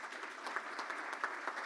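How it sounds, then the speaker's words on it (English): Brief applause from a club meeting audience, steady, faint and distant, with no talking. "Crowd goes wild."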